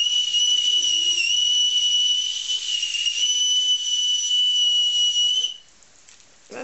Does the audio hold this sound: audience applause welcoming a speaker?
no